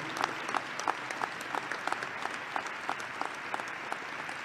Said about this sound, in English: So I want you all to give my wife a round of applause